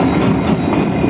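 A train on rails rumbles loudly and steadily at close range in one brief, unbroken burst of heavy rolling noise.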